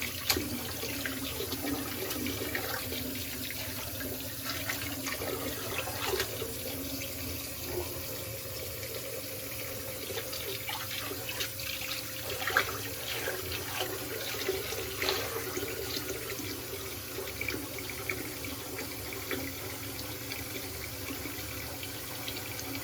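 A bathroom tap runs steadily to warm the water during a straight razor shave, a continuous splashing flow into the sink with small irregular spatters, fairly quiet and close, with no talk.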